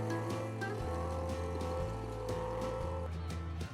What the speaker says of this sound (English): With its roaring engine, it slowly pulled its teammate and the Chevy 4X4 out of the deep mud trap